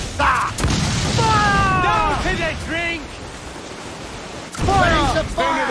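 Ship cannons firing in Assassin's Creed IV Black Flag: two heavy booming blasts, one near the start and one later, with rumbling noise and sharp whistling sounds in between, loud and close.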